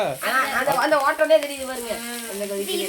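Food sizzling steadily in a hot pan while someone talks loudly close by throughout.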